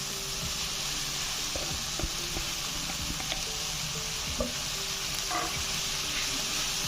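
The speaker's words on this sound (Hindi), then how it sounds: "ये जो भिंडी रोस्ट की थी ये डाल दूँगा, जो आधा किलो थी।" Half a kilo of roasted okra frying in a pan with masala, salt and turmeric, a continuous close hiss of sizzling oil with faint scattered pops and light stirring clicks, no voices.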